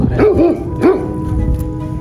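A large dog in a video game lets out three deep, close barks in quick succession, two together and then one more, over a low steady hum.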